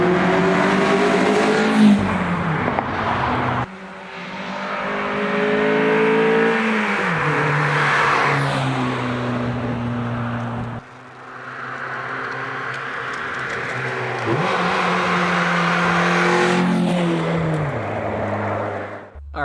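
A 2000 Infiniti G20 fitted with headers and a catback exhaust revs repeatedly, its engine note rising and falling through several loud, close blips over about twenty seconds with no talking.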